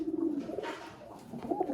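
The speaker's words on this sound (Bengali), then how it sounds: "খুব সুন্দর একটা পায়রা, দেখছেন একদম পুরো সেট হয়ে আছে" A pair of Malwai show pigeons, male and female, coo softly up close, with a few low, repeated throaty calls spaced out over a quiet background.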